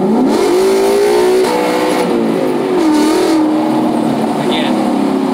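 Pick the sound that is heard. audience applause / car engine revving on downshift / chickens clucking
car engine revving on downshift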